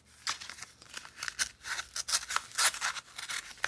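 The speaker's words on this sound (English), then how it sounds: "Let's use my makeshift envelope opener" Paper envelope being sliced open with a makeshift opener while making a junk journal, a quick run of crisp scraping and tearing strokes, close and steady, with no talking.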